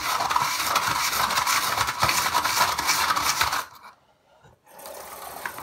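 Bristle brush scrubbing a snake's water bowl, a loud, dense scratchy rasping that runs steadily for several seconds, then stops abruptly before a brief, quieter resumption.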